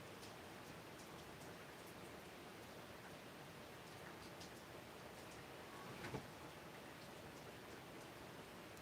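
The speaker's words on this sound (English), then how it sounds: "It's raining. Can you hear it? Man, is it raining." Steady rain falls and patters on surfaces, a soft continuous hiss with scattered drops, faint and even throughout.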